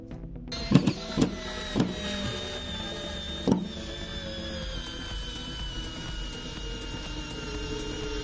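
A Total 8V cordless screwdriver (TSDLI08025) drives a 1.5 inch screw, giving a few sharp bursts early on followed by a steady motor whine that carries on to the end, close and fairly quiet, with no talking.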